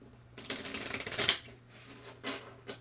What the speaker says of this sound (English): I've been shuffling these cards for a few days to limber them up